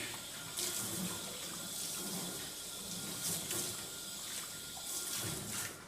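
Water from a handheld shower wand rinses the inside walls of a spa bathtub, a steady close spray splashing against the tub surface with slight surges, with no talk.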